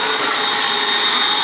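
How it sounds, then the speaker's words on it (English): Vacuum cleaner running indoors, a loud, steady whooshing roar with a high whine, continuous and close for the whole moment. "The vacuum cleaner's going."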